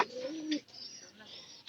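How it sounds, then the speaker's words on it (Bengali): A pigeon descending to drink water gives a soft, brief coo, faint and close, with no talk over it. "এই কবুতরটা পানি খাওয়ার জন্য নামছে"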